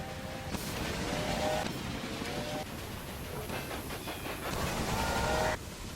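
Railway Empire gameplay in Great Britain and Ireland with many train services running: steady rolling rumble and clatter of trains, broken by a few short whistle toots, fairly loud and continuous with no talking.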